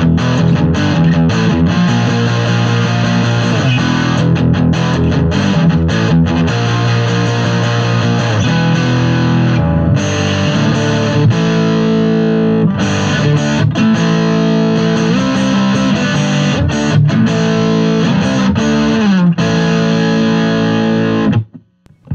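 Electric guitar played through a Hardluck Kings Bombshell pedal with heavy, crunchy metal distortion, a loud continuous stream of chugging riffs and sustained chords with brief gaps, ending abruptly.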